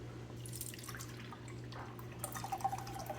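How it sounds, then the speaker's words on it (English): Liquid from a can of garbanzo beans draining through a strainer into a measuring cup, a quiet steady trickle with soft drips and small splashes growing a little busier toward the end, heard close with no talking. "Now we have this can of garbanzo beans and I'm going to empty them into this strainer"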